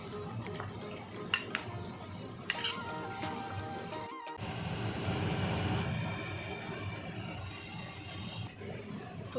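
Paneer tikka marinade mixed in a bowl, with soft clinks and scraping stirs of a utensil against the dish in a quiet kitchen, a few sharper knocks early on and continuous mixing afterward.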